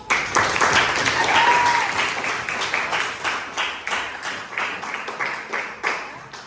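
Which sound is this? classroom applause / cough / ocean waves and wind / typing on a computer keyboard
classroom applause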